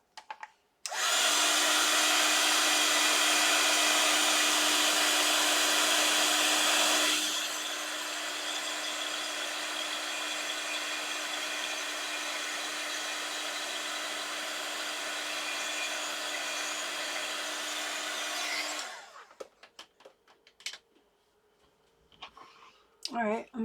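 Embossing heat tool blowing steadily to set embossing powder on a Christmas tag, a loud continuous whir that drops slightly in level partway through before switching off, followed by faint handling noises.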